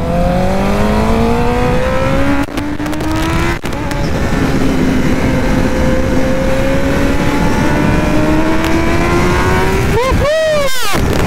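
A sport motorcycle engine revs and accelerates on a race track, loud and close, its pitch climbing steadily through long pulls with brief dips at gear changes and a final sharp rise and fall.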